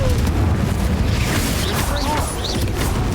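A Confringo explosion spell in Hogwarts Legacy, a loud sustained blast and rumble with crackling bursts on top, carrying through the whole moment.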